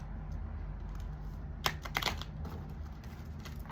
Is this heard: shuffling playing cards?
yes